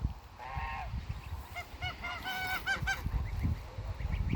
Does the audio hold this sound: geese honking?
yes